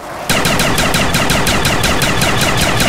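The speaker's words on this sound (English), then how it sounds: "You guys are about to see the unleashed power of the Spaz 24, which is the Spaz 12 upgraded." A pack-a-punched Spaz-24 shotgun blasts nonstop in the zombie game Kino der Toten, a loud, rapid, evenly spaced string of booming shots that starts abruptly and runs without a break, close and alone with no voices.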